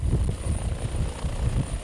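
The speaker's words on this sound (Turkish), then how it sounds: "TUSAŞ tarafından Ankara'da üretilen Türkiye'nin yerli helikopteri Atak, dünyaca ünlü bir bilgisayar oyununun da envanterine girdi" A T129 ATAK helicopter, built in Ankara by TUSAŞ, drones in War Thunder with a steady pulsing rotor and engine rumble, loud and continuous, with no talking.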